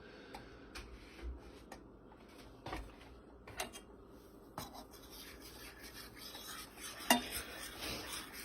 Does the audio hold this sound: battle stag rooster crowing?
no